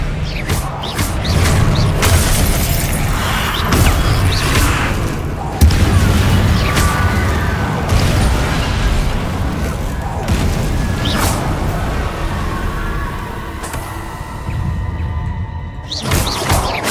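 Confringo fire spells blasting in Hogwarts Legacy, a loud run of booming explosions and crashing impacts that carry on steadily across the whole stretch, with a brief near-silent gap late before one more blast.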